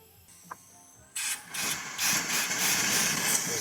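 Air is pumped into a car's cooling system to pressurise it: after a faint click and near silence, a hissing, whirring pump starts abruptly and runs steadily at close range, no voices.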